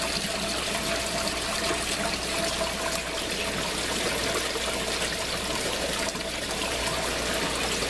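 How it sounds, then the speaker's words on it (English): Water drains steadily through an aquaponics grow tower near the end of its flush cycle, a continuous close splashing trickle like a small waterfall running without pause and without talk. "Sounds like that's getting near the end of that flush cycle."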